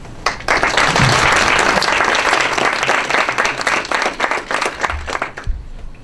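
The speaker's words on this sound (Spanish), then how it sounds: "Pido un aplauso para el señor embajador Enrique Berruga" An audience at a debate on Iran's nuclear program applauds ambassador Enrique Berruga with loud, dense clapping that swells quickly, holds for several seconds and then thins into scattered claps.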